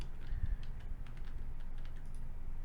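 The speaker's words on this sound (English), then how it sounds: "I'm clicking the mouse and moving around" Computer mouse clicks come through as several light, sharp ticks close by, spread unevenly under a steady low hum from the desk and machine while a Mandelbulb3D fractal render is explored.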